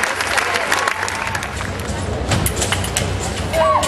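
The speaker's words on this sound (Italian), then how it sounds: "Forza ragazzi, fate un bel applauso, chiedete Margherita la vittoria." Audience applause at a fencing gala in Milan, dense clapping and crowd murmur filling the hall, with a voice and a brief electronic beep near the end.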